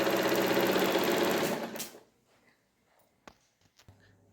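A domestic sewing machine stitches old nightie fabric in a fast, loud mechanical whir lasting under two seconds. It then winds down and stops, leaving faint handling clicks and taps in near silence.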